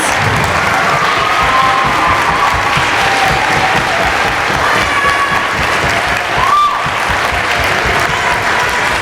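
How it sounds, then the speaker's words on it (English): An audience at a middle school concert applauds eighth graders standing up, a steady, dense round of clapping that fills the room for several seconds, with a faint tonal sound rising briefly near the end. "can I just ask all of the 8th graders to stand up so we can give you a round of applause?"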